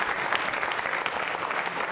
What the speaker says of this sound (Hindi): निखिल साहब के लिए तालियां जोरों से बजाइए